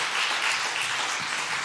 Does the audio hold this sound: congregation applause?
yes